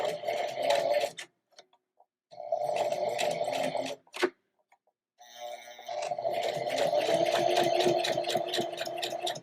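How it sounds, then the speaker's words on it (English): Sewing machine running in short bursts while back stitching and topstitching a seam, a rapid mechanical whirring chatter that starts and stops several times with quiet gaps and a brief click between runs. "So I'm going to do another back stitch."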